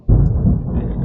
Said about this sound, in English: Just excuse the thunder in the background.